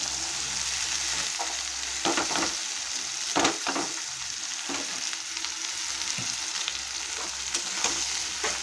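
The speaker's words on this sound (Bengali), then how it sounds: "আমি এইভাবে সরু সরু করে পটল আর উচ্ছেটাকে কেটে নিয়েছি, নিয়ে এখন আমি তেলের উপরে দিয়ে দিলাম" Thin strips of pointed gourd and bitter gourd fry in oil, a continuous close hiss with a few sharper crackles and stirring scrapes.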